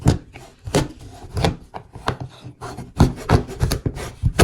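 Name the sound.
knife cutting homemade chocolate brownies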